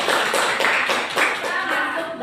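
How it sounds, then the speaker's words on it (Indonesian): Children in a classroom clap together for a classmate, a burst of rhythmic, close hand claps lasting a couple of seconds, with faint voices mixed in. "Kita kasih tepuk tangan untuk Sylvia."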